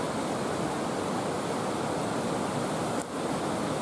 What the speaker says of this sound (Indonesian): ini arusnya deras